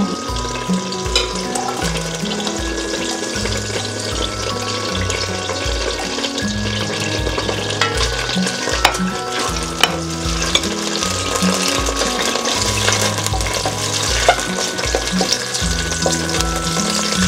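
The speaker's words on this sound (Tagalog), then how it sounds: "Magigisa tayo ng bawang. Gisa-gisa ng bawang." Garlic sautés in oil in a pan for Filipino sopas, a continuous close crackling sizzle with a steady low rhythmic hum and clatter underneath, no talking.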